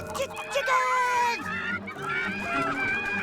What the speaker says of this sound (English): Okay, chickens, let's fly.